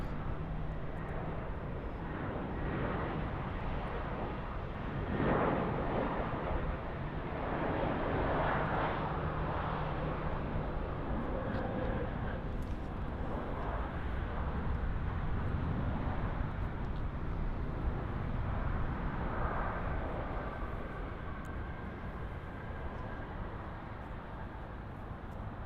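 An aircraft touching down on runway 08 left at Munich Airport, heard as a steady, broad roar of engines and rushing air that swells slightly and holds for the whole stretch, with no talking.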